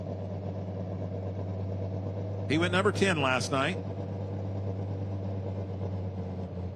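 A pro stock pulling tractor idles at a grandstand track during a night pulling event, a steady low, even rumble that runs throughout while an announcer talks over it in the middle.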